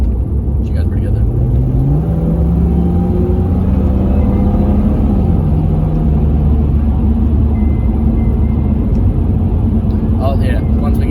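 Ford Falcon car accelerating at half throttle on a road, a steady loud engine rumble with a rising, shifting drone that climbs in pitch through the pull, heard from inside the car.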